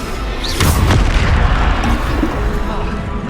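A Bombarda spell explodes in the Hogwarts Legacy video game, one heavy booming blast with a rumbling tail, loud and close amid game sound.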